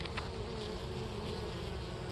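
Honey bees buzz around their hives in Mississippi in January, a dense, continuous hum, quiet and even throughout with no voices.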